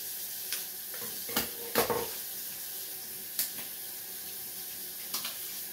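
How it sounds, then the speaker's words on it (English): Tap water running into a sink while tie-dyed fabric is rinsed, a continuous hiss punctuated by a few sharp splashes and clatters of handling, close and with no voices. "place it under running water in the sink"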